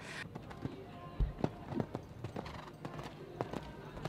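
A show-jumping horse's hooves thud and clop on the arena ground during a 1.40 m round at a championship, with irregular beats over a steady crowd murmur.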